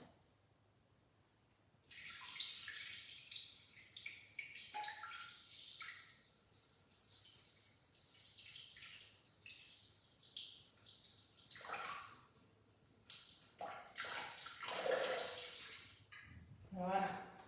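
Water poured from a tap into a bread dough mixer bowl, a steady rushing flow that starts and stops in bursts, with kitchen handling noises and occasional talk.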